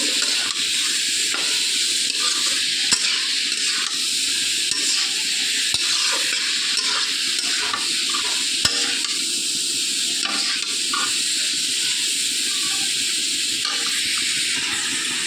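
Prawns and yam stalks frying in a pan with turmeric, salt and cumin powder, a loud, continuous hissing sizzle broken by repeated scraping stirs of a spatula, close and steady throughout, no voices.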